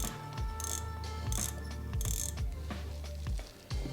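An Okuma Flite surf fishing reel clicks and ratchets close up, a rapid mechanical clicking that runs in bursts as the spool turns, with no voices.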